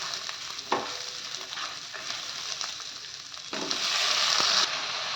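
Steady hiss of mustard seeds and spices tempering in hot oil for chutney, with a few sharp scraping stirs and a louder burst of crackling near the end.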